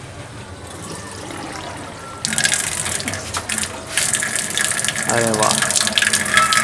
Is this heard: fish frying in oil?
no